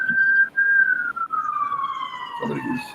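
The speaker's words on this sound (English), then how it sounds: "That's a police siren." A single high police siren tone glides slowly downward near the War Memorial in Ottawa, steady and fairly loud, fading as it moves off, with a brief low rumble near the end.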